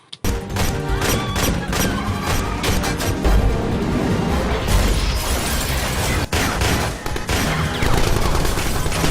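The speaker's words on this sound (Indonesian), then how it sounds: "Tembak-tembakan terjadi sana." Gunfire in a film shootout, dense bursts of rapid shots and heavy thumps with explosions, loud and continuous across the whole stretch with no talking.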